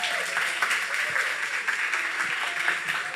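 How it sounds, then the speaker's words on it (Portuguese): A church congregation stands and applauds during a worship service, a dense, continuous sheet of clapping at a moderate, even loudness that carries without a break. "Aplaudir irmãos de novo, por favor."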